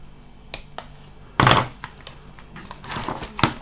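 Cutters snip the end off a plastic plant for wargaming jungle terrain, giving a few sharp clicks and one louder thunk, close and alone with no talk.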